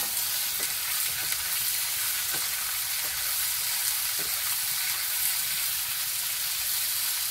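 Onion, cumin and tomato fry steadily in hot oil for a village-style fish curry, giving a continuous loud sizzle with occasional small pops and crackles and no voices.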